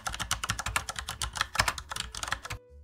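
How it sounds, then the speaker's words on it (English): Rapid typing of Java code on a computer keyboard, a steady run of close, crisp keystrokes with uneven rhythm and a few heavier taps, ending in a brief pause of silence. "Let's type that up."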